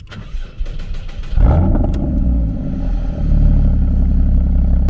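A 2016 Porsche Cayman fitted with an aftermarket exhaust cranks and fires up, bursting into a loud, close engine roar that settles into a rumbling idle before another rev swells near the end.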